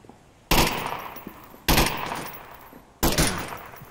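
Rifle fire from an SKS in the VR shooter Onward on a night Quarantine map: three sharp, loud gunshots spaced about a second apart, each with a decaying echo tail, with no talk.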